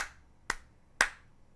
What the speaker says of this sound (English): Now if I clap 3 times, this one's going to turn off